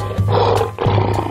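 A lion roars loudly and close, in two long rumbling bursts over a steady musical backing, with no speech.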